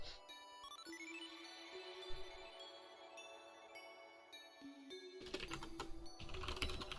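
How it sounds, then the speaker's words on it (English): Keys clatter on a mechanical keyboard built on the MXKeyboard rev 2, a steady run of quick clicks, close and fairly quiet, with a brief tinkling chime sounding in the background. "I love that I'm getting to write code for the thing I'm typing on right now."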